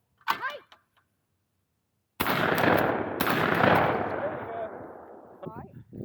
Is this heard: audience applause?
no